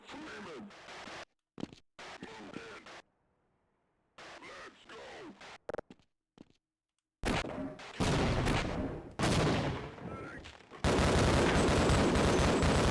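Gunfire in the PS2 version of the Half-Life video game: bursts of shots in loud choppy clusters separated by silent gaps, growing denser and louder toward the end.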